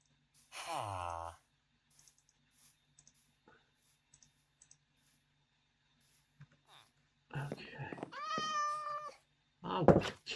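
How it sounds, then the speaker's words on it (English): A house cat meows loudly and insistently, one drawn-out cry near the start and another later, with faint clicks and a person sighing between them. "Oh, kitty, shut up. I'm not in the mood."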